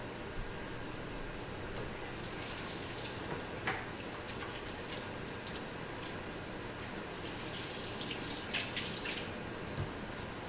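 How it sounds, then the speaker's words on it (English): Hands are washed under a running kitchen tap, a soft, steady water stream with scattered splashes and drips, fairly quiet and with no talking. "I'm going to actually wash my hands"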